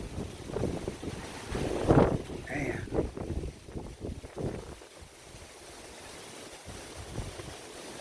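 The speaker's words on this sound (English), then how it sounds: "That gust of wind is strong" A strong gust of wind blows during rainy, stormy weather outdoors, buffeting the microphone with a rough rushing roar that swells and then eases, while someone talks.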